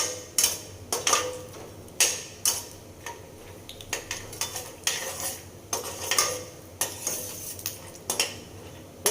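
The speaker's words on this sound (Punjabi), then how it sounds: "ਇਹਨਾਂ ਨੂੰ ਮੂੰਗਫਲੀਆਂ ਨੂੰ ਆਪਾਂ ਚੰਗੀ ਤਰ੍ਹਾਂ ਤਲ ਲਾਂਗੇ" Peanuts being roasted for poha, stirred in a pan with a metal spoon that scrapes and clinks in sharp, fairly regular strokes over a faint sizzle.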